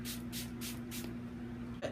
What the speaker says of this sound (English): I'm going to spray it with some water.